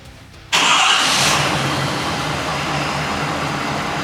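A deleted diesel truck engine cranks and catches abruptly after glow plugs, bursting into a loud, rough roar that settles into a steady, rumbling idle close by.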